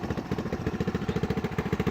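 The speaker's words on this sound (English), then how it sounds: "it seems to be idling all right" A 1984 Honda ATC 125M three-wheeler engine idles steadily after warming up, a close, even low-pitched putter with a regular pulsing rhythm and no voices.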